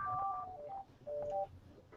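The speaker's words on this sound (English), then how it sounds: "That was my phone." A house phone rings with a brief electronic tone melody of a few stepped beeps in two short bursts, faint and somewhat distant, with no talk.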